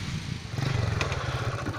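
A motorcycle engine drones steadily nearby beside a quiet lake in a forest, a loud, even buzzing hum that holds for under two seconds with no talking.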